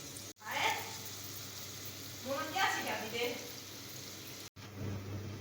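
Onions and halved chillies frying in a pan, giving a steady soft sizzle with some brief pauses while someone talks over it.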